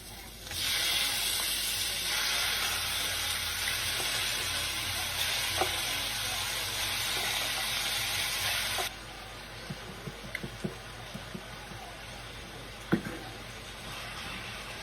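Chicken curry fries in a pan with a loud, steady sizzle for about nine seconds, then quietens to softer bubbling broken by scattered clinks and scrapes of stirring.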